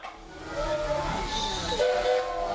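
Walt Disney World Railroad steam train starting to depart, with steady hiss and rumble and a brief whistle-like tone, close and continuous, with faint voices.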